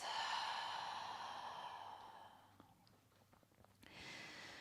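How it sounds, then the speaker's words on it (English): A long, soft, airy exhale through the nose or mouth during a yoga session for stress relief, close and quiet, fading away, followed by a short new breath after a pause. "Breathing in through your nose. And then exhaling through your nose or your mouth."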